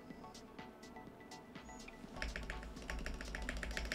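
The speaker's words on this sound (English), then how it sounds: "there is ticking in the spacebar" Mechanical keyboard spacebar, freshly fixed with stabilizers, pressed repeatedly with sharp ticking clicks that grow louder and quicker in the second half, set over a low steady hum.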